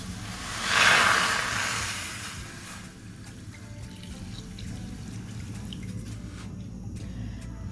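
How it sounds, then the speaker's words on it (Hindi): Water is poured into chicken for shami kebabs, a close splashing pour that swells early and then settles into a softer, steady trickle and bubbling. "अब मैं इसमें पानी शामिल कर रही हूँ।"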